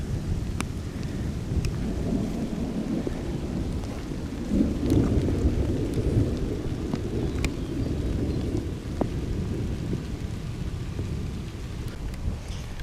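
A severe summer thunderstorm over Champaign: steady heavy rain and a continuous low rumble of rolling thunder, loud and sustained with a swelling peak midway, no voices.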